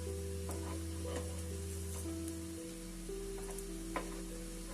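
Raw banana slices fry in a pan with a quiet, steady sizzle, broken by a few light scrapes and taps, heard close with a constant low hum underneath and no voices.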